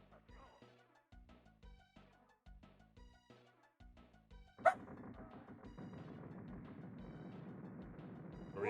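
Several dogs bark indoors in a room, a sudden loud burst that settles into steady, sustained barking and yapping over the electronic music of a retro video game played in a Super Smash TV tournament.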